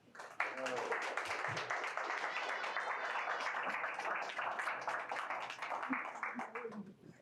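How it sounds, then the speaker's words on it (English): Crowd applause at a wedding ceremony, steady dense clapping that carries on for several seconds at a fairly even level, with a few voices calling out over it. "Give him a round of applause, y'all."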